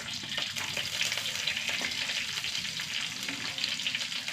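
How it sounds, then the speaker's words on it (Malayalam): Mustard seeds and garlic fry in hot coconut oil in a pan, giving a steady, close, hissing sizzle with faint crackles that runs unbroken throughout. "എണ്ണ ചൂടായി കുറച്ച് കടുക് ഇട്ട് കൊടുക്കുക."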